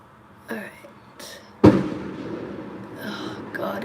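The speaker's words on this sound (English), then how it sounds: "can they stop with the fireworks and the gunshotting?" Fireworks and gunfire-like bangs from the neighbourhood near a home with a gun range behind it; one sharp loud bang stands out among a few softer pops, with faint background noise.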